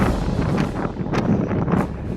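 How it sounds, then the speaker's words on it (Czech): Strong mountain wind on the slopes of Pico de Teide buffets the microphone in loud, continuous gusts with rumbling surges. "Ten vítr"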